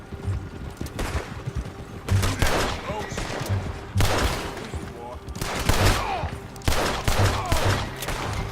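Gunfire in the video game Red Dead Redemption 2 rings out in repeated bursts of loud, sharp shots and volleys over about eight seconds, with some voices mixed underneath.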